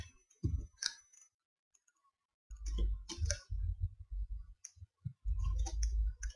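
Sharp, quiet clicking and chopping hits from cutting down a tree in a survival video game, coming in irregular bursts with brief gaps of silence between them.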